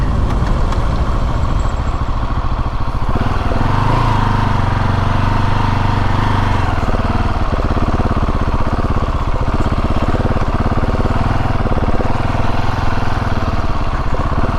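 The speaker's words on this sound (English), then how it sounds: "as you see, we are now off-roading my KTM 690." A KTM 690 SMCR single-cylinder motorcycle engine running while off-roading on back roads, a constant loud, close drone with a low rumble that shifts in pitch partway through, no talk.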